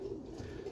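Roller pigeons coo from a loft on a hot, sunny day, a steady low murmuring hum of cooing with no talking over it.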